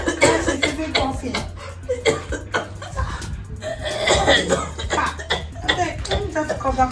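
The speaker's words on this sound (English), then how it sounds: "She's even coughing." An old woman coughing repeatedly in short, rough bursts, close and loud, mixed with chuckling and other voices talking around her.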